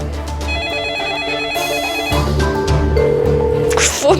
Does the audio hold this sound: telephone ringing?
yes